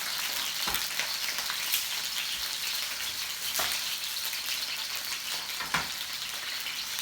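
Chicken searing in a pan for a Thai green curry, giving a dense, steady hiss and crackle with a few sharper pops, close and continuous throughout.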